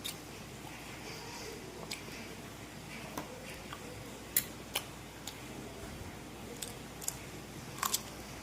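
Someone biting into and chewing a boiled egg alongside raw onion and green chili at a home meal, soft close mouth sounds with occasional small clicks over a low steady background.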